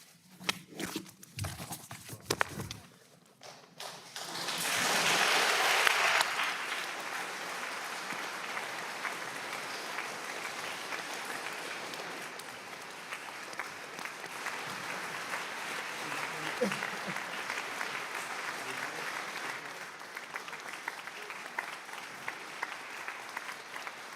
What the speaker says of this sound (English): I thought we decided we weren't going to clap in Shul.